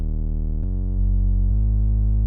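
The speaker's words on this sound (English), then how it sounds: "And then I've got an octave below that, a sine wave." A pure synth sine wave sounds as a bass layer an octave below, a smooth sustained tone that steps to a new pitch twice, loud and alone.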